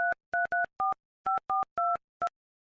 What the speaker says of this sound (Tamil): உங்களுக்கு மிஸ் கால் கொடுக்குறேன்